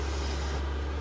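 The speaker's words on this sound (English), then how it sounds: "This truck is very loud," A loud truck outside produces a heavy, steady low rumble that fills the short moment with no talking.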